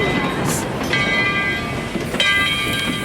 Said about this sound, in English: ET&WNC locomotive number 12 at Tweetsie Railroad, built in 1917.